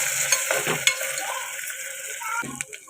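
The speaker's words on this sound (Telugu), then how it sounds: "ఇది కూడా పచ్చివాసన పోయేదాకా ఫ్రై చేసుకోవాలి" Ginger garlic paste fries in a pan for a spicy Telangana-style boti curry, with a soft sizzle and a few brief spatula scrapes and taps close by.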